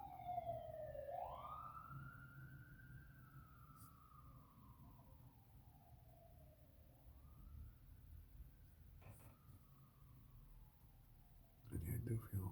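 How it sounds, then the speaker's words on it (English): A distant police siren wails, its pitch rising and slowly falling in long sweeps, faint against a low background rumble, with a brief clatter at the end. "I think it was the police sirens"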